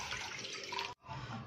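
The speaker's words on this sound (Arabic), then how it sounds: "هنجيب نص كوباية رز منقوعة نقعها ساعة، هنحط عليها كوبايتين مية" Water poured from a cup into a pot of soaked rice for rice pudding, a steady splashing stream that briefly cuts out and then resumes, close and fairly quiet.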